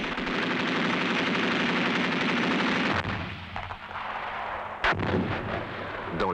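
Rapid, continuous 20 mm cannon fire in a long rolling burst, then scattered heavier blasts and a sharp crack, loud and close.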